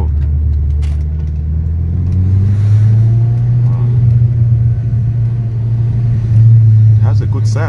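An Audi S3 8L with a mid-pitched engine that drones and rises while driving, a steady loud rumble with gradual pitch swells, heard from inside the car.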